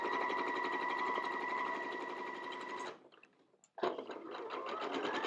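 Close-up sewing machine stitching quilt fabric in fast, steady rapid-fire bursts, stopping briefly for a second before resuming at full speed.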